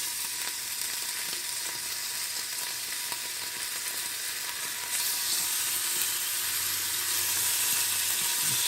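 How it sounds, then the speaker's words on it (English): Bacon sizzles in an Instant Pot on saute mode, a steady bright crackling hiss that grows a little louder partway through, alone without voices. "now we're gonna lay our bacon"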